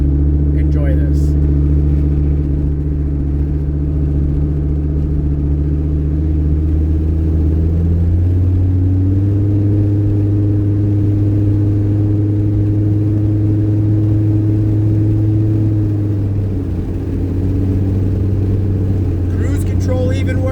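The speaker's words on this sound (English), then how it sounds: "But this will be the first real drive at speed, 65, 70." A Chevrolet Colorado truck cruises at highway speed around 65 to 70 mph, its steady engine drone and low road rumble continuous throughout, with a slight pitch shift midway as the engine settles.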